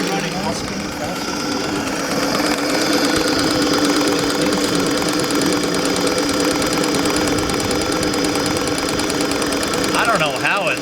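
A radio-controlled steam engine boat runs continuously with a loud, dense mechanical whir and buzzing drone that holds steady throughout, recorded up close.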